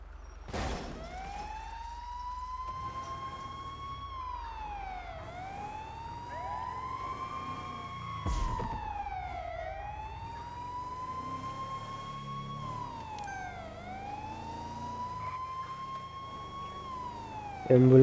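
A wailing ambulance siren in a video game rises and falls repeatedly in a steady cycle over background engine hum, with occasional thumps and voices.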